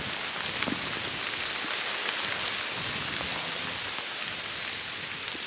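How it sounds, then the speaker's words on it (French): Heavy rain pours steadily around a campsite, a dense, even hiss of countless drops hitting surfaces, unbroken throughout and with no voices. "là il pleut beaucoup autour de moi"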